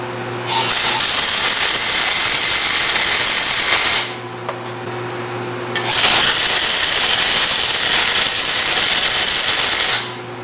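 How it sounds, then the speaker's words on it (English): A grinder strips paint from a BMW E36 seat bracket ahead of tack welding, giving loud, hissing bursts of about four seconds each with a short quiet gap between them. "Grind the paint where you're going to put tack welds so that way it'll stay on"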